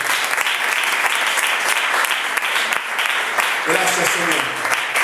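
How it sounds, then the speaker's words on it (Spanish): A church congregation applauding for a continuous stretch, dense loud clapping throughout with a voice briefly rising over it near the end. "Denle fuerte el aplauso al Rey de Gloria"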